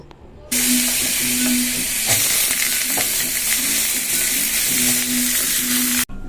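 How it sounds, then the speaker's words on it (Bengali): Potatoes fry in oil with a dried chilli in a kadai pan, giving a steady, close sizzle with a faint stirring rhythm that runs continuously for several seconds. "কড়াতে তো তেল দিয়ে দিয়েছি একটা শুকনো লঙ্কা দিয়েছি দিয়ে আর আলুগুলো ভেজে নেব"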